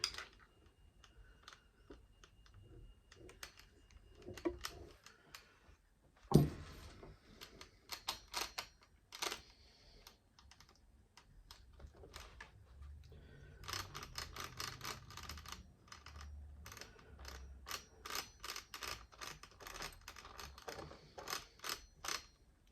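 A Traxxas Savage RC 3-speed transmission with rough gear mesh gives off faint, irregular ticking and ratcheting clicks, some sparse and some in dense rapid clusters, with a sharp knock near the start.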